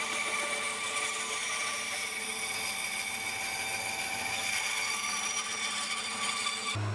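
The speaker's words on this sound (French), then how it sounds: "J'y vais donc très doucement avec la scie à ruban." Steady, continuous whine and hiss from a Capex band saw slowly cutting through hard wood, running close and even for the whole stretch before stopping abruptly at the end.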